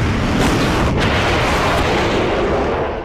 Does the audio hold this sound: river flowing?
no